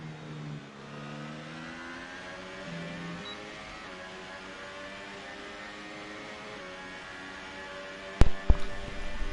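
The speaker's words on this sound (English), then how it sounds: "Revving out 6th or 7th gear to get extra power" Racing car engine in a British GP sim race, revving steadily high through the gears with sweeping pitch, a sharp clatter of impacts near the end.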